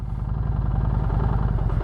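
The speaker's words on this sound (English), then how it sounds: "we're going to hear the engine drop" Motorcycle engine idling steadily as the clutch is slowly let out with no throttle, a close, continuous low rumble with even pulsing that sags slightly, no voices over it.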